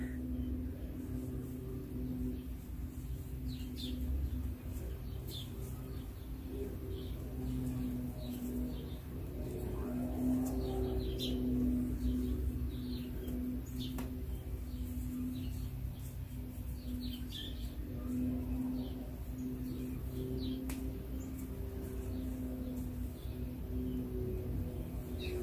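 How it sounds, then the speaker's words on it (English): Birds chirp and coo outdoors, with pigeon or dove calls and scattered tweets over a steady background hum of distant traffic and lawn mowing, faint and continuous for the whole stretch. "birds chirping."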